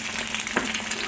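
Food sizzles steadily in a hot pan while being flipped for a biscuit breakfast, a dense continuous frying hiss with a brief scrape and clatter midway, close and moderately loud with no talk.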